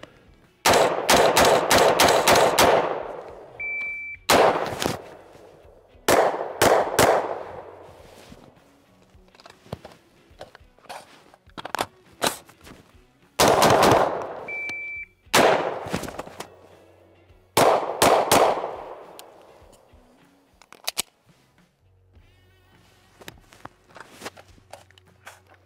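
Gunfire from a SOLGW M4-89 rifle fitted with a Sons of Liberty Gunworks fighting trigger: loud, close bursts of rapid shots in several strings, each trailing off in ringing echo, separated by short quiet gaps.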